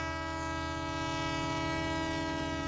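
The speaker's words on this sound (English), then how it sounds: "That train whistle. And something running down the tracks." A train horn blares in a steady sustained chord over the rumble of a train moving along the tracks, loud and continuous.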